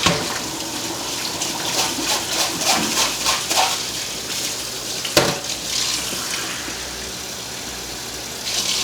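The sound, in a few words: rinsing rice in wire mesh strainer under tap water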